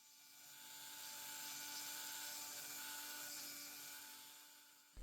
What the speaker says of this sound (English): this pointed diamond burr is also a nice way of doing it as well